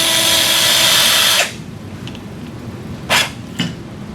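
A surgical powered pin driver spins a radial core drill with a 2.7 mm shank into a sawbones wrist model. It gives a loud, steady whine for about a second and a half, then stops, followed by two brief clacks.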